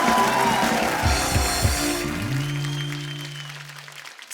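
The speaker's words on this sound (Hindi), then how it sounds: "जोरदार तालियां होनी चाहिए यार" Studio audience on The Kapil Sharma Show bursts into applause, with dense clapping filling the first two seconds before fading under sustained musical tones from the stage band.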